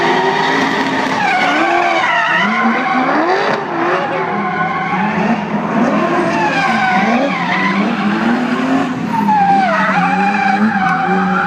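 A BMW M5 drifts at the 2013 Luxembourg International Motor Show, tires squealing in long wavering screeches over a loud revving engine, continuous and close for the whole stretch.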